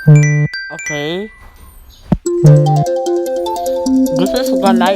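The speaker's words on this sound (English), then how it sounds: "This is the night hour ringtone that I'm going to use when mom calls." An iPhone 6S Plus ringtone plays a bright, tonal electronic melody of chiming notes and gliding tones, loud and close, broken by short gaps and a sharp click.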